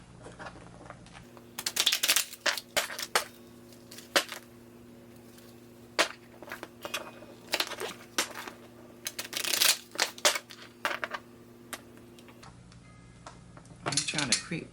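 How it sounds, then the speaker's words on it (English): A deck of tarot cards is shuffled by hand in quick bursts of crisp riffling and tapping, with short pauses between bursts and a faint background hum. "Shuffle these up once or twice here."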